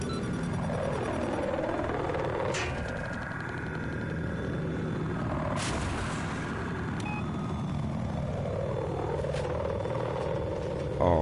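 Helicopter engine and rotor drone in Battlefield 4 on PS4, a steady broadband whir held throughout with sweeping tonal game effects and brief bursts layered over it.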